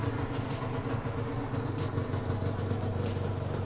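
A Honda NSR two-stroke motorcycle engine idling nearby, a continuous low, even burble with faint irregular crackles on top, steady in loudness and without talk.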